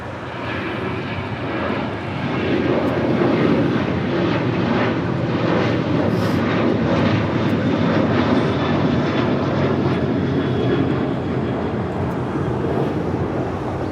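Airliner landing at Los Angeles International Airport, a loud sustained engine roar that swells after a couple of seconds and holds steady, heard alone from nearby.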